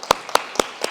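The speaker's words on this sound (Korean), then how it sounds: "인사하고 들어갈 때 박수로 축복하겠습니다" Four or five slow, evenly spaced hand claps ring out close and loud in a church service, each one crisp and separate, with no voices.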